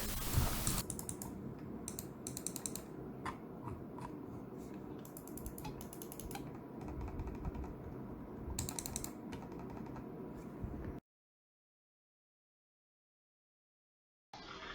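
Rapid small plastic computer mouse button clicks and rattles from a wobbling button, close and fairly quiet, over a faint hiss, with a stretch of silence near the end.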